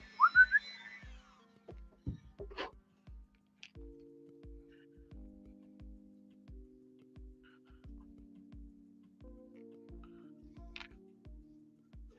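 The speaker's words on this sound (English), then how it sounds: "Whistle, whistle." A person whistles a sustained tune in a quiet room while working on customizing action figures, with a steady series of soft ticking clicks running underneath throughout.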